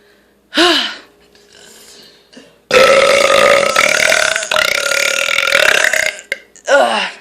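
A long, loud, rumbling beer burp lasting several seconds, with shorter gasps and vocal sounds before and after it, close up.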